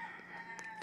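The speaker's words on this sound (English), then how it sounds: "Yes, that is a rooster for any new subscribers that I have." A rooster crows, the drawn-out call sounding faint and somewhat distant, steady across the brief moment with no talk over it.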